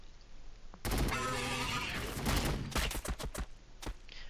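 Gunfire in the Warhammer 40k Battle Sector strategy game: a sustained, dense volley of shots, then a few sharp separate cracks trailing off.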